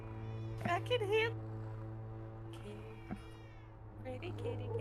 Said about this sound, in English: Hopefully, stream should be able to hear the kitty.